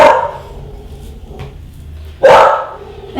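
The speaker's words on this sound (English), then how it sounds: "now the dog is barking." A dog barks indoors in a home kitchen, with a sharp bark at the start and another louder bark a couple of seconds later, separated by a quiet room.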